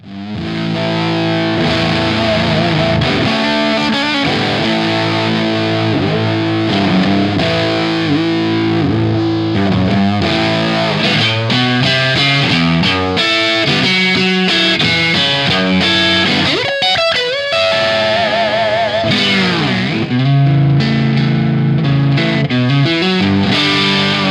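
Loud, sustained electric guitar through a fuzz pedal and digital sustain pedal into a cranked Fender Deluxe Reverb amp, heavy distortion, chords and notes ringing out long and smooth, played continuously without any voices.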